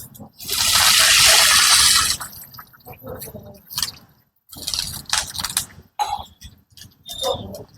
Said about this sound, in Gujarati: એક ગ્લાસ પાણી નાખી